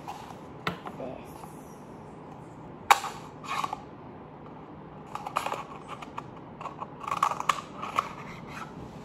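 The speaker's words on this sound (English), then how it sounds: "cut the paper cup like" Scissors snip through a paper cup for a homemade bubble machine, giving a handful of sharp, close cuts spaced irregularly over quiet room background.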